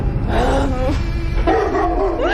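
A dog barks and yips several times at close range in a French village during an evening, the short bursts sitting within a noisy outdoor background.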